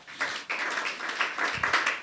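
Church congregation clapping during a worship service, a dense even patter of many hands from start to finish, moderately close with no voices.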